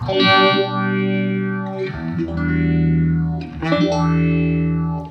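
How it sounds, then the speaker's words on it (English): Electric guitar chords run through a Chase Bliss Wombtone MKII phaser pedal set to 4-stage phasing, giving a loud, distorted, sweeping tone that swells and dips over a few sustained strums, with no voices. "can hear that fantastic sweep."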